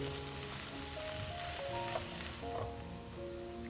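Mushrooms sizzle in a pan with chicken juices, oil, chopped onions and garlic, giving a steady, close, continuous frying hiss with no voices.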